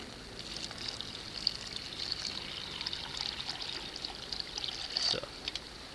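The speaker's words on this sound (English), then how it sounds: "fill it back in your water bottle" Water is poured back into a water bottle outdoors, a steady close trickle that lasts several seconds with a brief gurgle near the end and no talking.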